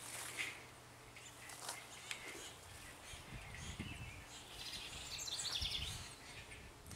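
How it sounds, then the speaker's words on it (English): Faint birdsong drifts through a mid-June flower garden, soft chirps and calls scattered over a quiet outdoor background with no talk. "Love the birds."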